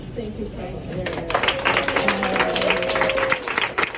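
Campaign launch party audience clapping for a state senate candidate in New Hampshire: mixed crowd applause building over a few seconds, with a speaker talking over it.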